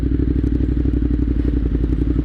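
A Ducati Monster 821 motorcycle on the move gives a close, steady, throbbing engine rumble with rapid regular pulses and faint clatter, alone without talk.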